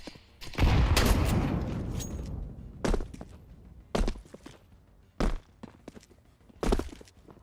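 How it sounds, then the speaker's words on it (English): In a Counter-Strike 2 match, a grenade goes off in a loud, rumbling blast that fades over about a second. Several sharp, separate thuds or shots follow at intervals. "Throwing a grenade."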